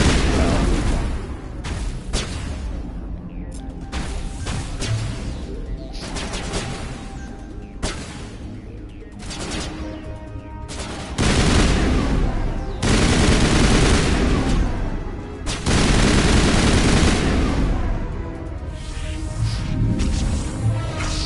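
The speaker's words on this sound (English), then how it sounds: "these robots I have to shoot in this game or I'm gonna die" Gunfire rips through a Mass Effect firefight against robots, dense rapid shots and bursts with heavy booms, loud and continuous, swelling in the second half with little break.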